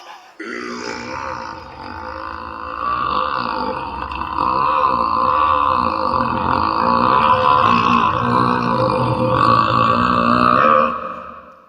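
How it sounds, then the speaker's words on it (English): One very long, loud, deep burp rolls on for about eleven seconds, rising and wavering in pitch without a break. "It was the biggest burp I had ever done."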